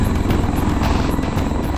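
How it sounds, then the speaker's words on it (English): A Bell V-280 Valor tiltrotor flies overhead during a flight test carrying an external sling load, its rotors making a loud, steady, throbbing roar throughout. "We were able to demonstrate an external sling load operation with the aircraft."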